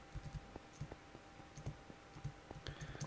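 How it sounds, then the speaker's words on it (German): A computer keyboard is hammered hard during a Minecraft gaming session, with sharp, irregular clacks and quick bursts of keystrokes close to the microphone and no voice over them. "wie laut das ist, wenn man die ganze Zeit auf den Tasten drauf hämmert"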